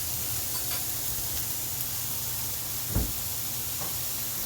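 Onions and garlic breaking down in a hot pan give a soft, continuous sizzle and hiss, with one brief clunk partway through.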